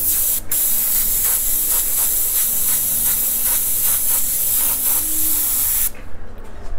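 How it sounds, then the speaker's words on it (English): A Badger Omni 3000 airbrush sprays paint for graffiti-style art, giving a loud, steady close hiss that runs unbroken for several seconds, then cuts off abruptly near the end. "This is the one I have most of, is the Omni 3000 airbrush by Badger."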